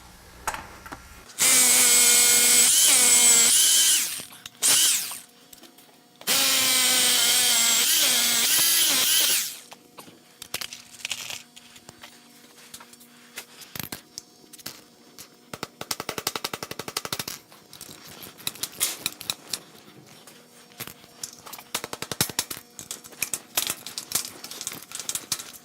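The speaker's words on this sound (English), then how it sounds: "I have 2 more to drill at this location." A power drill whines in two long bursts as it drives door screws, followed by quieter clicks, rattles and handling noises.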